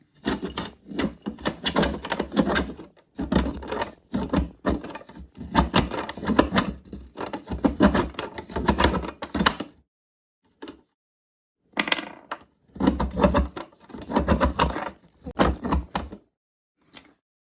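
A chocolate bar is rubbed against the coarse side of a metal box grater in quick, rough scraping bursts, close and fairly loud, with one long pause partway through.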